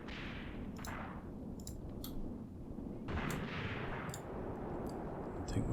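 Artillery fires in the tank game Tank Warfare: Tunisia 1943 during the Longstop Hill battle. Several loud blasts land at irregular intervals over a constant low rumble of battle, with no voices.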